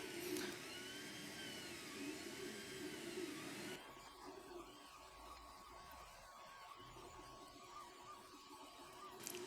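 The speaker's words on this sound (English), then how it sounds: "in a few moments it will start printing." An Ender 3 Pro 3D printer whirs with a steady fan hum and then shifts as it begins printing, its motor tones dropping to a quieter mechanical drone.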